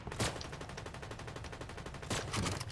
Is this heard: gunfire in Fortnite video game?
yes